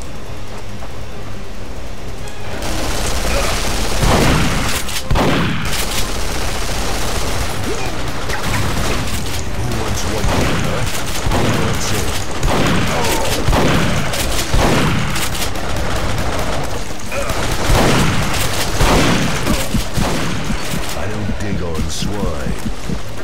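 Machine gun fire in the Duke Nukem Forever video game, loud bursts and booms rattling continuously over game effects, with someone talking excitedly throughout.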